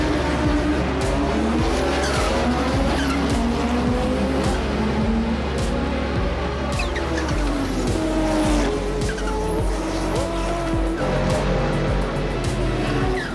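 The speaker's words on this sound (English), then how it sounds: "1988 Audi Trans Am." A 1988 Audi Trans Am race car lapping a track, engine revving up and down through gear changes with tire squeal, loud and close with no one talking.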